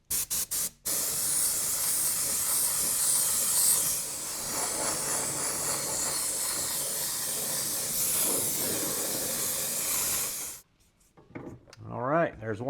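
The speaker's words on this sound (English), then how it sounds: "let's spray our white." Opaque white spray paint hissing from a can onto a Kyosho Dune Master RC car body, a long, steady close-up spray lasting about ten seconds after a few short bursts, then stopping as a voice speaks.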